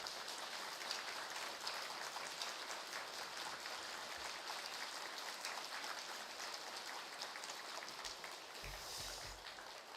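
Dense, even applause from a church congregation at a Thanksgiving dawn prayer service welcomes a pastor, a continuous wash of many hands clapping at moderate distance without a break.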